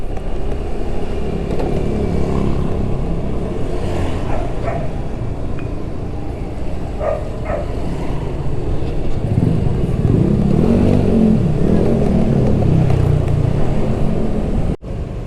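Road traffic at night heard from inside a car stuck behind a large van, a constant low engine and road rumble with a dog barking a few times and a thick low idle swelling near the end.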